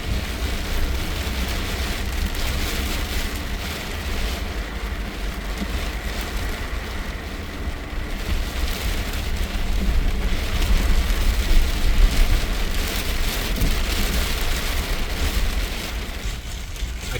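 Steady, heavy rain drums on the roof of an RV close by, a dense continuous patter with no voices, swelling slightly louder midway.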